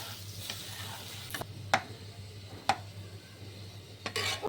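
Brinjal and bori curry being stirred in a pan after the water has cooked off, giving a few sparse, soft scrapes and taps over a low steady hum, with no talking.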